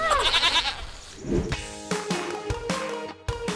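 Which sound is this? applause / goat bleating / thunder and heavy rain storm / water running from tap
goat bleating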